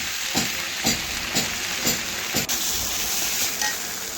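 Banana stem frying with poppy seed paste in a pan, stirred in a regular rhythm of about two scrapes per second over a constant close sizzle.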